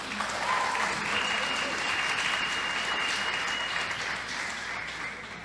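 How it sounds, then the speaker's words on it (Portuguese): Applause from a church service congregation, a steady dense clapping crowd sustained throughout and close, with a few faint voices mixed in. "uma salva de palmas para essa galera"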